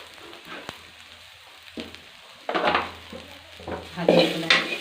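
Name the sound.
chilli and turmeric frying in a pan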